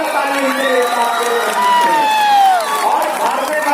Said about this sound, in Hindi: एक बार दो ताली